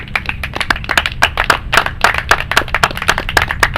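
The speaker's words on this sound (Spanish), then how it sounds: "un fuerte aplauso a nuestro Señor Jesucristo" A church audience claps for Jesus Christ in a brisk, steady rhythm, close and loud, each sharp clap distinct, with no talking over it.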